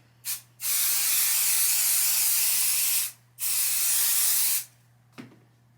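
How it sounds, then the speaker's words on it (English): Odif 505 temporary spray adhesive hisses onto quilt fabric in close, loud bursts: a short puff, then two long sprays of about two seconds each, followed by a small click. "You'll see when you pull up where it grabs to make sure that you get the whole thing sprayed"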